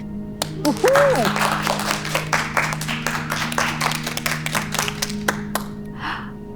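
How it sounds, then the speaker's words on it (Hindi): Scattered clapping in a classroom scene for two students, with sharp individual claps in an irregular rhythm that thin out toward the end, and a brief voice near the start. "इन दोनों के लिए तालियां हो जाए"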